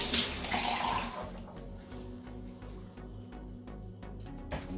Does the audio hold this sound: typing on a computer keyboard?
no